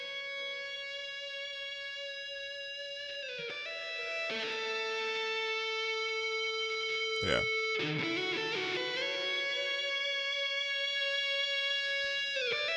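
Bass guitar run through effects to mimic a guitar part, bright sustained distorted tones with shifting chords and a brief sharp burst midway, while a voice speaks briefly.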